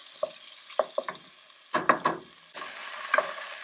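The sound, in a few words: vegetables, potatoes and pancetta cooking in a pot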